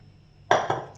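Potatoes tipped into a pressure cooker, a single close clattering thud followed by a second smaller knock against the metal pot, brief and fairly quiet.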